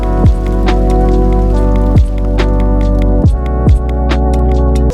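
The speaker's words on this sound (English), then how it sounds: "atmosphere sounds. And let's just do rain for now." Rain hiss layered as an atmospheric bed under a lofi hip-hop beat, steady and moderately loud beneath warm sustained chords and deep, sweeping kick drums that land at an uneven, unhurried pace.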